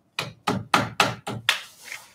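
Machinist hammer tapping metal in a workshop, six sharp strikes at an even rhythm, close and clear with nothing else heard.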